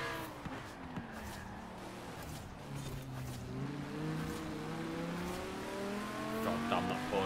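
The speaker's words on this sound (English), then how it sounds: "God damn, that Porsche's acceleration." A Porsche accelerating hard in the racing game Forza Horizon 4, its engine note climbing steadily in pitch as it gains speed over a continuous roar, with tyre and road noise beneath.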